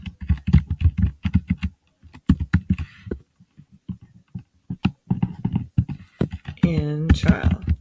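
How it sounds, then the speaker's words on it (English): Rapid keyboard typing as a username is entered to log in on a computer, in quick bursts of close clicking keys interleaved with someone talking. "So I'm going to log in using my backpack. So my username is Joe Smith."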